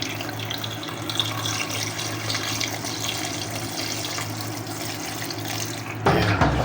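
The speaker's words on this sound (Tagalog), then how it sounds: "lalagyan na po natin ng tubig, halos pantay lang na" Tap water pouring steadily into a cooking pot of hasa-hasa fish, a continuous splashing hiss that shifts tone near the end as the flow changes.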